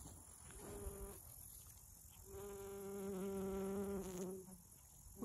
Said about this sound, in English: bees are still enjoying them